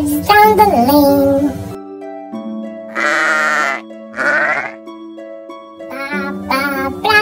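Sheep bleat loudly and close in a children's nursery-rhyme setting, several wavering baa calls separated by short pauses, with music or sung tones underneath.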